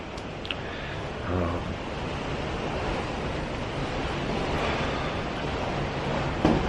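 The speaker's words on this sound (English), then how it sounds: "It is so windy outside." Strong, steady wind roars and buffets the microphone outdoors, a constant broadband rush with occasional gusts.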